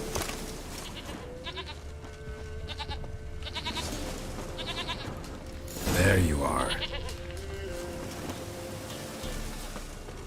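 A goat in The Witcher 3 bleats once near the middle, loud and clear, amid ambient game sounds, with someone talking briefly.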